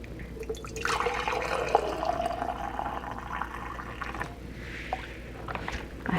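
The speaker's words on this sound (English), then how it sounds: "Okay, I'm just going to start pouring now." Hot tomato juice is poured into canning jars, a continuous liquid fill with faint drips and splashes and no talking.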